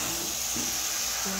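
Mango mixed with melted jaggery in a pan gives a steady hissing sizzle with soft stirring scrapes, close and constant, under faint low humming tones.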